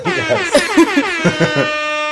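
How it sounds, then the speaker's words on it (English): A blaring Jamaican-style air horn sounds in a rapid series of stuttering blasts, then holds one long sustained note to the end, loud and up close. "Tim adds some Jamaican air horns."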